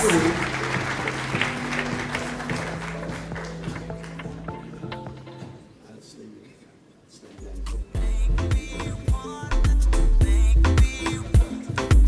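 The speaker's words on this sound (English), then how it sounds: "the applause was very welcoming" Audience at a graduation ceremony applauding to welcome a guest speaker, an ambassador; dense clapping fills the first five seconds, dips, then returns loud with heavy thumps and bursts of cheering.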